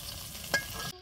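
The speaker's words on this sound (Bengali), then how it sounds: "মাছ ভাজি করা শেষ, এখন আবার বেগুনগুলো ভাজি করে নিতেছি।" Eggplant pieces fry in a pan with a steady, close crackling sizzle, broken by one brief louder stir or scrape midway, before the sound cuts off abruptly near the end.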